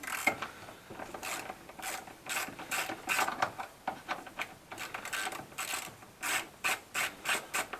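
Ratchet wrench undoing a bolt on the air intake of an Alfa Romeo Giulietta 1750 TBI QV, a close series of quick clicking ratchet strokes in irregular bursts, with no talking.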